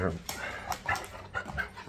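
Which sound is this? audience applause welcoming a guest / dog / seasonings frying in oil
dog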